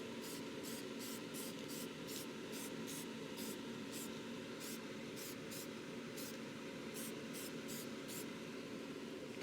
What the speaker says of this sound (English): And I'm going to use the black paint. Again, short sprays.